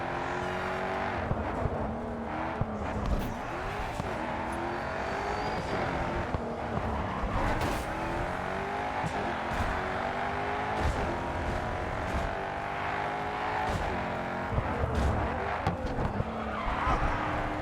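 Race car engine in the racing game GRID 2, with continuous, loud engine roar and harmonic revving throughout, tyre squeal and skidding mixed in, no talk.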